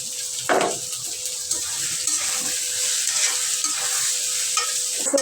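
Chili, garlic and shrimp fry in a pan with a steady close sizzle, broken by a few stirring scrapes and clinks.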